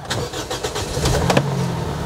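A Limo Gen 2 car engine is started nearby, with a brief starter crank that catches into a steady, loud idle.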